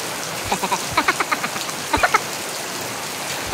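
Steady rain falls outdoors as a constant hiss, with a run of soft close knocks or croaks rising above it.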